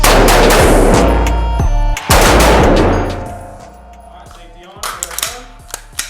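Firearms go off in a shooting competition, with loud, close bursts of rapid gunfire blurring together at first, then fading into scattered sharp shots and metallic clangs.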